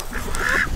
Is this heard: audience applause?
no